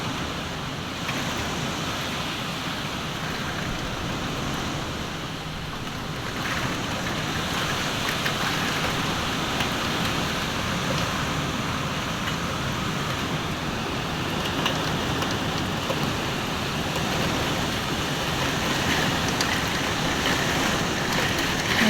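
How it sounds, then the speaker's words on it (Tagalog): Heavy rain from Typhoon Ramil pours steadily with gusting wind, forming a constant dense hiss that holds for the full stretch, with no voices. "Grabe na po ngayon talaga kalakas ng ulan."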